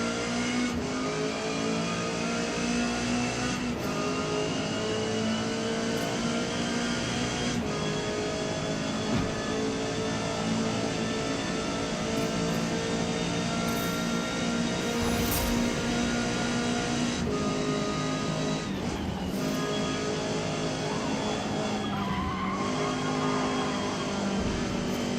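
A car engine in Forza Motorsport revs steadily and loud through the whole stretch, its pitch rising and falling with each shift up and down in a continuous race drone.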